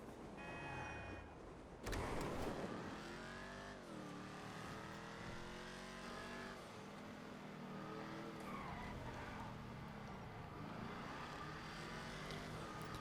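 A Ruiner 2000 muscle car in GTA 5 Online revs hard after a sharp opening burst, its engine note sweeping up and down with tire squeal, loud and continuous without speech.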